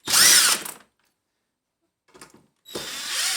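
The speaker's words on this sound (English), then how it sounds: "Take those screws out." A power drill removes screws: a loud, close whirring burst, a silent pause, a few brief faint clicks, then the motor spins up again at the end.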